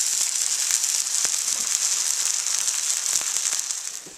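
A grilled cheese sandwich sizzles steadily in a hot pan, a constant hissing crackle with scattered small pops, fairly close and loud.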